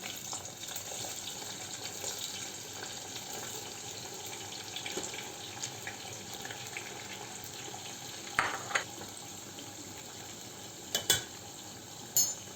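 Onions frying in a pan in a home kitchen, a soft steady sizzle that runs throughout at low volume, with a few brief clinks and stirring knocks near the end.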